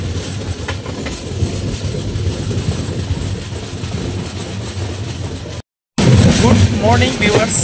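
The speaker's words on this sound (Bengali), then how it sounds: "জেগে দেখি ট্রেন মালদা ঢুকবে" Kolkata Garib Rath Express runs on toward Malda, heard from inside the coach as a steady loud rumble with rhythmic clickety-clack wheel beats, a brief cut, then renewed close clatter with faint squeal.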